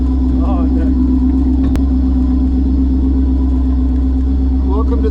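A car's engine rumbles steadily and close by, a heavy low drone that holds throughout, with people talking over it.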